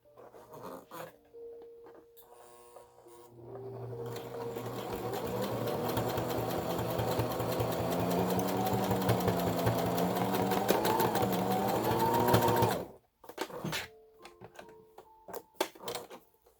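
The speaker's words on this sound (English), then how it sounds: "I'm going to sew this all together now." A sewing machine stitches through a doubled fabric bandana. It runs in a fast, steady rattle for about nine seconds and speeds up slightly, with short bursts of stitching before and after.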